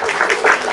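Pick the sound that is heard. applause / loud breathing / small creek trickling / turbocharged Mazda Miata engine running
applause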